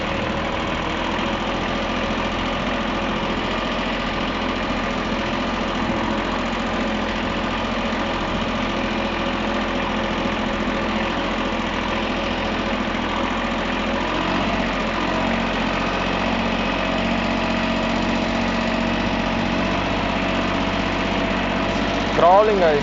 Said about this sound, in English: We are in 1500 RPM now. Let's slowly go to 2000 RPM.